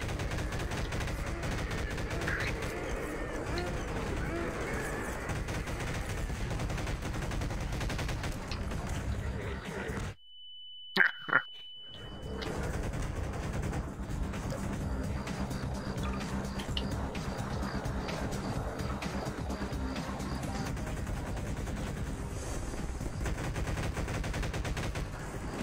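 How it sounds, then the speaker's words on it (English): Combine soldiers fire on zombies in Garry's Mod, a dense, continuous roar of rapid gunfire that drops out abruptly for about two seconds, leaving a few faint clicks and a thin tone, then resumes just as heavily. "The combine shoot."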